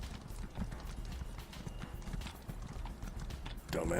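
Rapid, steady clip-clop of horse hooves trotting close by in the video game Elder Scrolls Online, with brief sounds of voices over the rhythm near the end.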